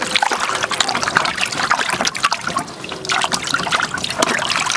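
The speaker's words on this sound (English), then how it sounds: "added some water. Just giving it a wash with my hands." Water in a bucket trickles and splashes as plant roots are washed free of soil by hand, an irregular close-up dribbling and sloshing that continues throughout without speech.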